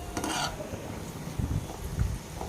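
Vermicelli for semiya paayasam frying in a pan over a low flame, a soft steady sizzle with a few clinks and scrapes of a spoon stirring against the pan.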